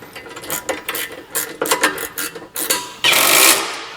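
A socket wrench tightens a step bolt on an Atlas golf cart, with a run of quick ratcheting clicks and metal knocks up close, ending in a brief louder rasp.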